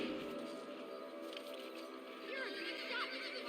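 A horse in the Western video game Red Dead Redemption whinnies with a rising, wavering neigh over a steady game ambience, and faint hoof clops sit in the background.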